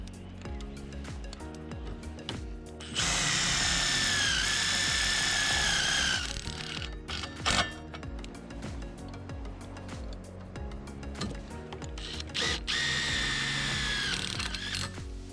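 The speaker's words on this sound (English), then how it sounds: "using the Tek screws to fix the mast to the right hand bracing bracket" A power drill drives metal Tek screws to fix an under-tile antenna mount mast to its bracing bracket, with loud whining bursts of a few seconds each between quieter handling clatter.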